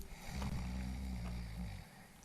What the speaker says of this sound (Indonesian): Ada suara orang ngorok